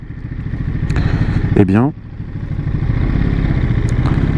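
A motorcycle engine idles with a steady low rumble close by, briefly revving in a rising whine before settling back, while someone speaks over it.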